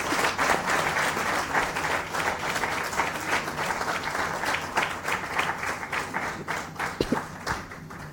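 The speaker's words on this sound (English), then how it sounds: "Please keep clapping. You need to hear a louder noise" Audience applause at the ISC-FICCI Sanitation Awards 2017 ceremony, a loud, sustained wash of many hands clapping that continues steadily for several seconds.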